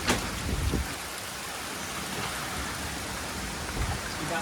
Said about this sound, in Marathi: जोराचा पाऊस चालू आहे इकडं